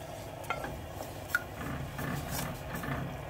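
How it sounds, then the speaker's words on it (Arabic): Blended lentil soup with vermicelli being stirred in a pot on the stove, a spoon scraping and clinking softly against the sides, with a few sharper taps over a low steady background. "هبدأ ان انا اقلب"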